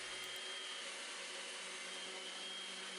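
A steady, high-pitched power sander whirs continuously at an even level on a midcentury dresser with 150 grit sandpaper, with no voices, droning without pause.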